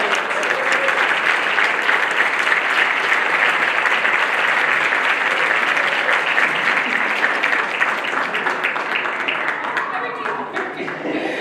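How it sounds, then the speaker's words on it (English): A large audience at a college business pitch night claps for a winning team, a dense and loud burst of applause that holds for about ten seconds and then thins out toward the end. "Again, a round of applause to My Closet."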